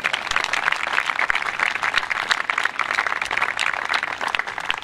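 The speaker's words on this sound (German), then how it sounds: "Ich denke, da ist ein Applaus wert." A congregation at an ecumenical anniversary church service claps for a guest, a steady patter of applause that sounds moderately near and continues throughout without talk.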